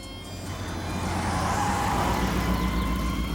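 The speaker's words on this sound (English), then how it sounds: "A big truck screeched to a short stop" A big truck screeches to a stop in a children's cartoon, a loud, rising rumble with a sustained brake squeal sweeping across the short clip.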